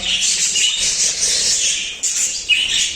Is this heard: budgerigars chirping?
yes